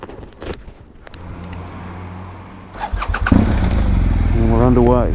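A motorcycle in Spain starts with a few cranking ticks, then its engine catches and revs up loudly and steadily as the bike rides off, close to the microphone, while someone talks over it.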